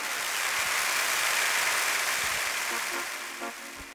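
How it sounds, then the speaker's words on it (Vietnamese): Applause at a Vietnamese wedding welcoming the head of the groom's family, a broad steady clapping that holds for several seconds, then thins with some voices underneath before stopping abruptly. "một tràng pháo tay thật lớn để cùng chào đón vị trưởng đoàn của nhà trai"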